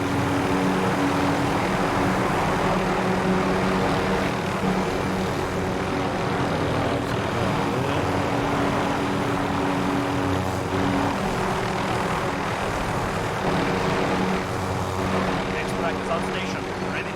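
Propeller aircraft droning overhead in a video game, a steady loud engine hum with low throbbing tones that runs throughout, with gameplay noise mixed in.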